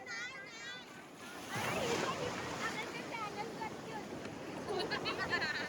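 Ocean waves washing in on a beach, a broad rushing surge that swells and lingers, with wind buffeting the microphone and voices talking over it.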